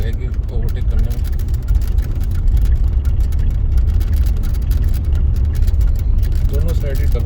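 A car rolls along a foggy double road in Punjab, about to overtake a bus, its steady engine drone and road noise running continuously beneath someone talking throughout.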